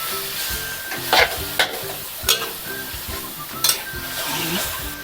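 Seafood gravy with shrimp and squid simmers and sizzles steadily in a pan, with a few sharp clinks of a utensil stirring against the pan.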